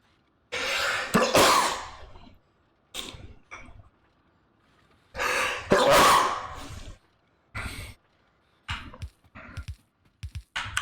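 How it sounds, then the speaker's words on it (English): A single sneeze bursts out loud and close at the start, followed by a few shorter breathy bursts and scattered throat sounds in an otherwise quiet room. "Oh, a little sneeze there."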